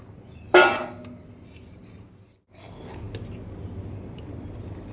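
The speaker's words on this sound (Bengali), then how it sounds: "এবার জল দিয়ে দেবো ঝোলটা আমি একটু পাতলাই রাখবো" Water is poured into a simmering rohu fish curry, a brief loud splashing gush near the start, then a short pause and a soft bubbling simmer that continues quietly.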